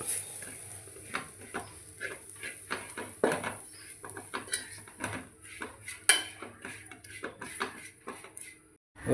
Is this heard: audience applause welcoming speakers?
no